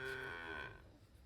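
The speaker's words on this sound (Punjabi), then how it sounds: "ਹਾਂਜੀ ਆ ਹੁਣ ਗਾਂ ਖੋਲ ਲਈ, ਇਹਨੂੰ ਇੱਥੇ ਬਾਹਰ ਬੰਨ੍ਹਨੇ ਆ" A single cow lows loudly just after being untied outside, one long close moo with a clear rising-then-falling tone that fades away, with no talking over it.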